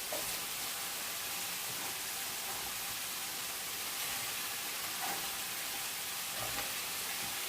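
Meat simmering and sizzling in a pan, a steady close hiss of frying with faint soft crackles and a few stirring sounds throughout, no talking.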